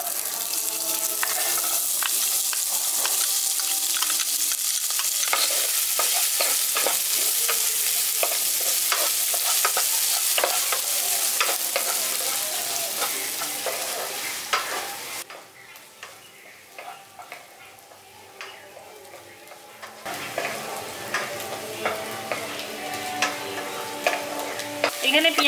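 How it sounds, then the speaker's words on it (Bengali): Finely chopped onion frying in a pan for a village-style brinjal bharta gives a loud, dense sizzle for about fifteen seconds, then quieter stirring with scattered clinks before the hiss swells again. "এখানে পেঁয়াজটা দেখুন আমি হালকা করে ভেজে নিয়েছি, পেঁয়াজের কালারটা চেঞ্জ হওয়া পর্যন্ত"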